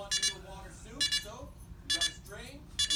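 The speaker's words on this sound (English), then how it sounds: "Is that an alarm clock?" A bedside alarm clock sounds paired electronic beeps about once a second, four times in a row, loud and near, while someone talks over the gaps.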